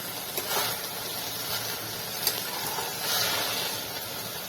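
Mung beans dry-roasting in a pan, a soft continuous hiss and faint sizzle with occasional light rattles from stirring, fairly quiet and steady.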